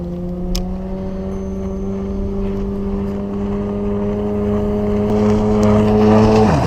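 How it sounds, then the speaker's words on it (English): A steady jet ski engine drone with a rising pitch grows gradually louder as it approaches. No voices. "the low hum of an engine shattered the calm"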